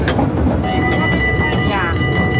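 A theme park train rumbles and clatters steadily on its track throughout, loud and close, with people talking over it.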